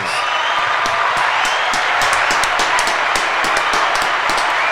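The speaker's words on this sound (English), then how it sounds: "We want to thank you for that and give you a round of applause." A small group claps for a guest in a podcast studio, scattered hand claps heard over a constant background hiss, fairly loud and close with no talking.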